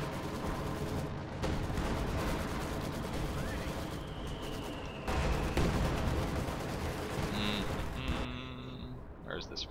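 Gunfire and artillery fire in the video game Company of Heroes 2, a continuous dense barrage of shots and blasts with heavier booms midway, under excited commentary.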